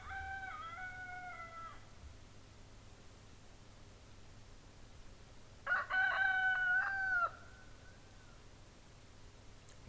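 A rooster crows twice in a garden on a late-September afternoon, two drawn-out cock-a-doodle-doo calls several seconds apart, heard at moderate distance over a steady background hiss.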